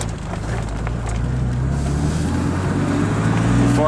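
A car engine that is not yet broken in, with unseated valves and new piston rings, idles with a steady low hum and a faint rough edge, heard alone and continuous.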